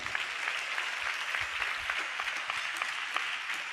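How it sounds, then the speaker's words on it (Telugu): A church congregation clapping hands together, dense steady applause from many people held evenly throughout. "గట్టిగా చప్పట్లు కొడుతూ స్తోత్రాలు చెప్దాం"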